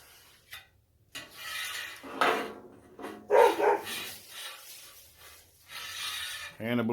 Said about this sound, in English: I believe my dog is chasing a skunk